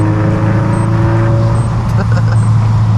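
A turbocharged Subaru BRZ with an aftermarket catback exhaust drones steadily while driving, a constant low engine hum heard from inside the car.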